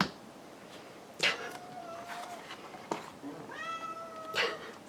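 A pet cat meows loudly several times in a home, a few drawn-out, insistent cries spaced over a few seconds against quiet room noise.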